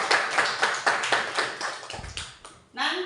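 A school class claps hands in a quick run of sharp, distinct claps at a steady beat, close and fairly loud, ending with a brief voice.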